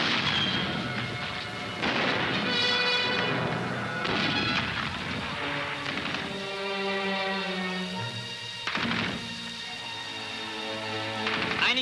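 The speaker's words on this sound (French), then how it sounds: "Sie werden unter Feuer genommen." Artillery fire on approaching enemy tanks sounds as repeated heavy booms and rumbling blasts in a loud, continuous wartime battle soundtrack, with ringing tonal sound mixed under the explosions.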